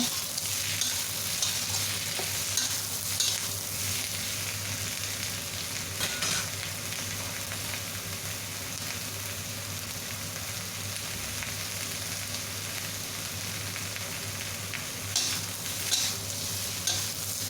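Tiger prawns sauté gently in a pan, a steady close sizzle with soft scraping stirs running throughout, and no voices.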